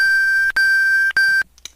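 The Super Mario 1-Up chime, a bright electronic sound, plays in three sustained tones separated by short gaps, clear and close, followed by a few faint blips.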